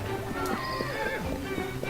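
A horse in Assassin's Creed Syndicate whinnies briefly and close, a short tonal neigh over a busy game-world background with faint hoof sounds.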